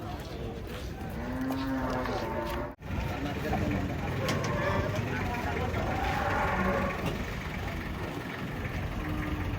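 Cows being unloaded from a truck moo now and then across a busy outdoor scene, with people chatting and an engine idling in the background.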